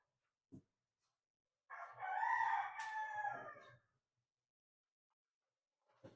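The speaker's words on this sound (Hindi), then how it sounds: "मुर्गा बोला" A rooster crows once in a long, loud call lasting about two seconds, with faint clucks around it and a couple of brief knocks before and after, in otherwise quiet surroundings.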